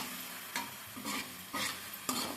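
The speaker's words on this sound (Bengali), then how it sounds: "আলুটা আমার খুব ভালোভাবে ভাজা হয়ে গেছে" Potatoes frying and sizzling in oil in a home kitchen pan, a steady soft crackle broken by several quick stirring scrapes at roughly half-second intervals.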